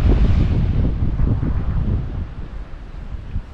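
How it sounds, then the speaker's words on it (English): Wind buffets the microphone over a steady wash of ocean surf, loud at first and easing slightly, with no voices. "we're going to sit and enjoy these scenes for the night and listen to the waves."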